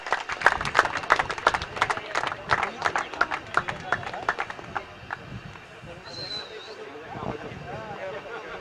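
Audience at a Ghansoli Champion Trophy 2021 prize ceremony bursts into loud, dense clapping for a player, the applause running steadily for about five seconds before thinning out into crowd murmur.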